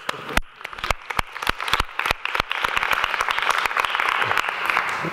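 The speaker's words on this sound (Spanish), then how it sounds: "Un aplauso, ¿eh?" An audience applauds after a talk, starting with a few distinct, close, irregular claps that quickly swell into fuller, denser clapping across the room.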